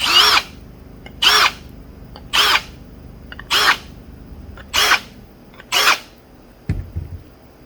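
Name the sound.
deburring tool on counterbores of machined part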